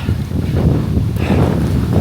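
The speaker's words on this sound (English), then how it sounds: "I hope you can hear me okay with the wind" Wind buffets a microphone during a hilly, windy outdoor run, a steady loud low rumble with gusty fluctuations and no clear speech.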